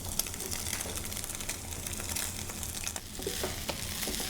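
Eggs and rice frying in oil in a hot pan, a dense, loud, close sizzle with crackles and stirring scrapes throughout, no voices.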